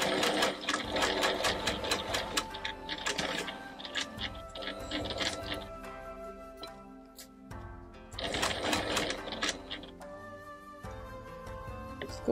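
A sewing machine stitches quilt patches in quick bursts of rapid mechanical clatter, pausing briefly between runs, close and fairly loud.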